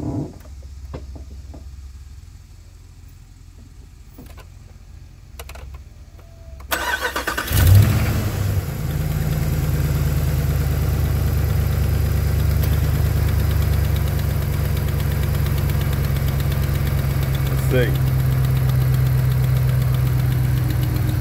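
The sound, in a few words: truck engine idling with exhaust manifold leak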